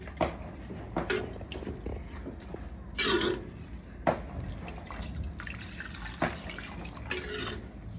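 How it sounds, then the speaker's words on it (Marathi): Water poured into a cooking pot of rice for a green pea pulao, with soft splashing and dripping in short bursts over a low kitchen background. "आता आपण यात पाणी टाकूया."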